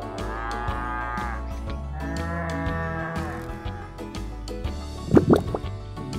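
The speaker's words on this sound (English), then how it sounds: "It's a cow." A cow on a farm moos twice, long and loud, with a short gap between the calls, then a brief wet dripping splash follows.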